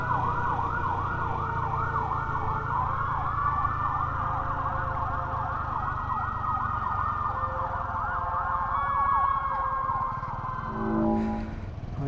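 An ambulance siren wails steadily in a rising and falling cycle, loud and close, over the rumble of road traffic during a winter ride in Louisville, Kentucky.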